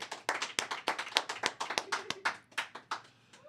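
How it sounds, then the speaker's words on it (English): A small audience claps for a podcast guest, a sparse, uneven run of distinct nearby hand claps that thins out toward the end. "please give a round of applause for Eric and the Most High Show"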